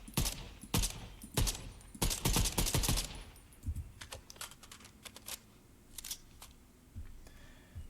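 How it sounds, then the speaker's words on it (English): In Fortnite, the Havoc suppressed assault rifle fires in short bursts of sharp, muffled clicky shots, a quick cluster early on and then scattered single pops, fairly quiet and with no talking. "And then we have the Havoc suppressed assault rifle."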